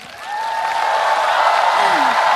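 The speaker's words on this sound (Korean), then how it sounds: "여러분들 크게 박수 쳐주시면" A concert crowd claps and cheers in a steady, dense roar that swells in the first moment and holds loud throughout, with a few voices calling out over it.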